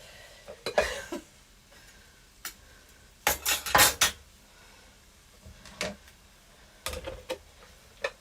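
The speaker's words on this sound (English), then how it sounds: "You're just going to hear me fight with all the Tupperware that we've got." Plastic Tupperware containers clatter and knock in scattered bursts, several sharp rattles close by with quiet gaps between them, no voices.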